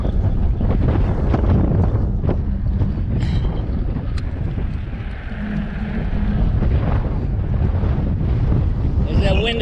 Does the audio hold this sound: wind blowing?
yes